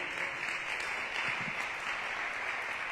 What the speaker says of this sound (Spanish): y ahora sí denle un aplauso al Señor.